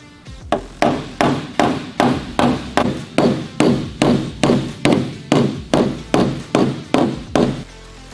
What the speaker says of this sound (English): get our blending hammer and start correcting some of these crowns